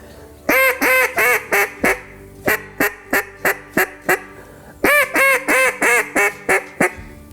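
A handheld duck call blows a five-note hail cadence, sharp nasal quacks descending in a run, then a short pause before a second similar sequence of rapid, loud calls.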